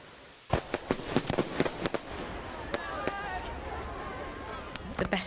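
Fireworks burst at night in a string of sharp, echoing bangs and crackles, some close and loud, others more distant, with a hiss between volleys.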